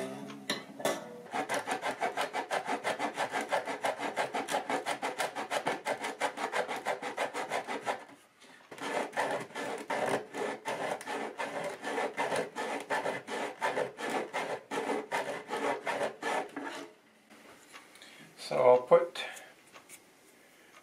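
Rhythmic back-and-forth rasping of sandpaper on a wooden guitar back, steady strokes in long runs with short pauses between, close and fairly quiet.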